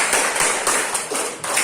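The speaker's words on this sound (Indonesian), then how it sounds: "Beri tepuk tangan untuk kelompok 2." Classroom applause for a student group, a dense patter of many hands clapping together, steady and fairly loud, with small surges in intensity through the short burst.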